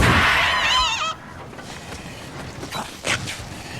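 A duck-like honking squawk bursts out loud and close in a short warbling run, then stops, leaving quiet background shuffles and a faint thump.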